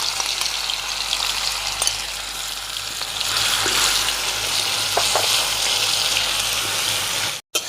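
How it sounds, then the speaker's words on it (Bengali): Panch phoron, ground shrimp, cumin, coriander and dried red chillies hit hot oil for a Bengali pui shak chachhori, making a loud, continuous crackling sizzle with a few sharper pops, all close by. "তেল গরম হয়ে গেছে আমি পাঁচ ফোড়ন ফোড়ন দিলাম বেটে রাখা চিংড়ি মাছ জিরে ধনে শুকনো লঙ্কা এর মধ্যে দিয়ে দেবো"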